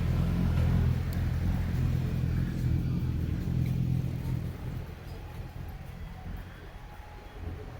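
Street traffic in Taichung's Dali district, a loud rumble of passing cars and engines that is strongest at first, then eases to a softer, steady background hum.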